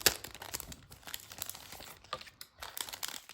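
Sticker sheet stuck together being peeled apart, soft crinkling and tearing rustles, close and quiet, in short uneven bursts with brief pauses.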